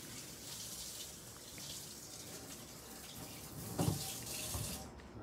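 Water runs steadily from a tap into a sink while an arm is rinsed under it, a constant close hiss and splash with a brief heavier slosh near the end.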